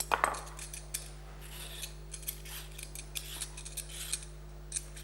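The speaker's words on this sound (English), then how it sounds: "So first of all, we have to peel the carrots." Carrots are scraped with a peeler in a series of quiet, brief rasping strokes repeating irregularly over a steady low electrical hum in a kitchen.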